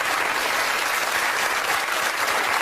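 Television talk show studio audience breaks into loud, dense, continuous applause, a steady roar of many hands with no voices on top.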